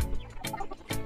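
A loose hen clucks in a quick series of short, close calls outdoors during morning chores.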